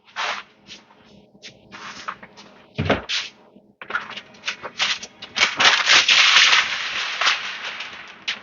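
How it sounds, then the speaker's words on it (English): Aluminum foil is pulled from a roll and crinkled around a smoked brisket, a run of crisp rustling and crackling bursts that start sparse and grow denser and louder, with one sharp tearing snap in the middle. "Get some more foil."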